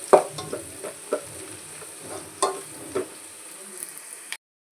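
Spices and turmeric powder frying in a pan are stirred with a spoon, giving soft sizzling under a few distinct scraping knocks before the sound cuts off abruptly.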